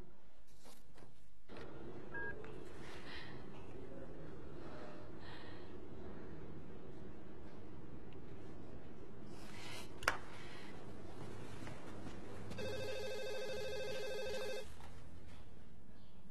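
A landline telephone rings near the end in a quiet domestic scene, a steady electronic ring repeating for a couple of seconds after a long stretch of soft room tone and faint movement; any dialing tones are not clearly audible.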